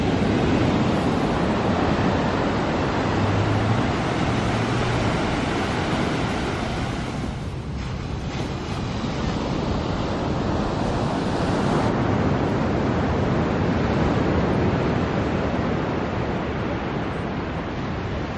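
Ocean waves break continuously along the shore at Santa Cruz, a dense, steady wash of surf that stays loud throughout, with white water rushing and no voices.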